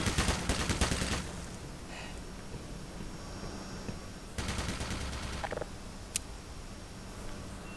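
Machine gun fire in the video game Black Mesa, two loud rapid bursts of automatic shots, each about a second long, separated by a quieter stretch with faint clicks and background hum.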